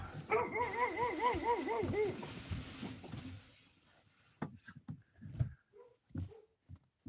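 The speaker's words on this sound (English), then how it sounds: "That's the dogs." Several dogs bark and yip in quick repeated bursts, fairly close, for a few seconds, then fade into scattered noises while a person talks.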